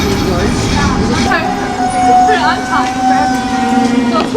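A commuter train running toward King George in the Burnaby area, a steady rumbling ride with a sustained tonal whine, heard from inside under ongoing nearby talk.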